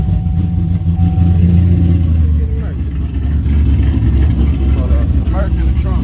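A parked street car sits at an outlaw small-tire drag event, its steady engine droning loud and close throughout, with people talking nearby.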